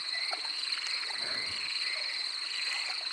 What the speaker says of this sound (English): I'm not sure if folks can hear us over the frogs